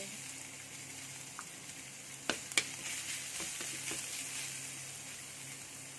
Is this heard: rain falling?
no